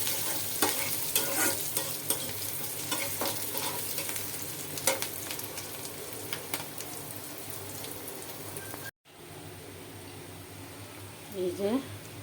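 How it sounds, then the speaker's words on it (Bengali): Papaya being stir-fried in a pan, a steady close sizzle with frequent scraping stirs, briefly cut off and then quieter frying with a few faint clinks near the end. "এই যে আমার পেঁপে ভাজি হয়ে গেছে"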